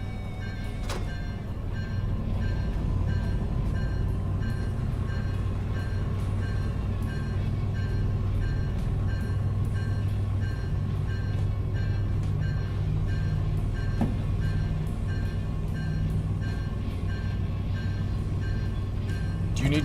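A DE-6 diesel locomotive in the train game Derail Valley runs with a steady low engine drone and a sustained tonal hum, plus a brief sharp knock near the start, continuous and even throughout.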